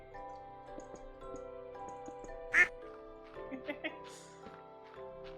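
A Stardew Valley duck quack plays as a stream alert over Minecraft game music, one short bright quack rising clearly above the soft background, with a few fainter blips after it.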